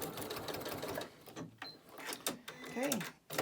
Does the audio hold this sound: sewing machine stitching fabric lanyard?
yes